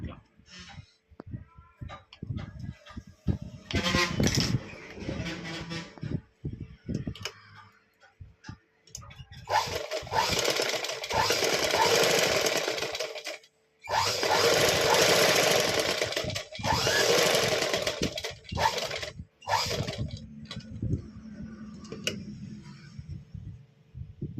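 A sewing machine stitches a lehenga top, running along the lining in several loud, steady bursts separated by short pauses, with a few quieter ticking stretches in between.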